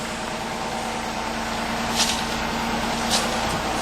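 A family car engine idles soon after a cold start on a freezing morning, a steady, moderate hum with a constant tonal drone and two brief faint hisses toward the end.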